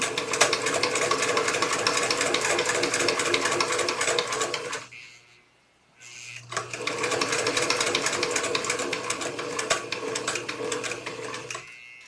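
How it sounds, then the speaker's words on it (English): Sewing machine running steadily as it stitches a contoured fisheye dart in fabric, a dense continuous whir that stops briefly for a pivot, then resumes at the same even pace. "I'll continue stitching, and I will remove my pins as I go."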